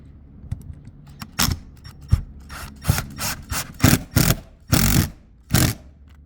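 A Phillips screwdriver drives screws into a Dometic Ultra-Breeze RV vent cover, giving a series of close, scratchy twisting and grinding strokes separated by brief pauses.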